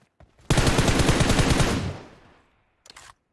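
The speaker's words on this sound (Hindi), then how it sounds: "ओयो गोलियां पड़ रही है, टंग टंग टंग" A single loud burst of automatic gunfire in a mobile battle royale video game, a sustained rattle of about a second and a half that trails off, followed by a short faint second burst.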